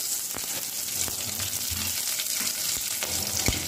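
Hot oil sizzles and crackles steadily as cumin, dried red chillies and curry leaves are tempered, with sharp pops and spatters scattered through the frying, close and fairly loud.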